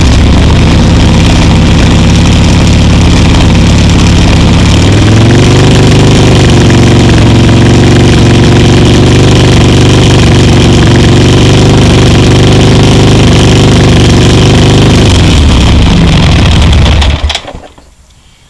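A Harley-Davidson Sportster motorcycle engine held at about 3,000 RPM during a charging system test, a loud close steady roar that rises partway in, holds, then drops and cuts off near the end, no talking.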